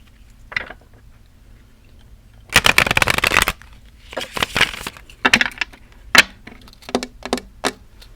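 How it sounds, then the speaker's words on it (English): Tarot cards given a hard, vigorous shuffle, a long riffling burst followed by several shorter bursts and single crisp snaps, close and loud with no talking. "let's do a hard shuffle"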